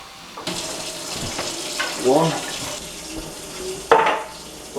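Water from a tap running into an emptied can of tomato puree while making Italian tomato sauce for spaghetti, a splashing, gurgling pour with a few brief surges, close by, with a short spoken word over it.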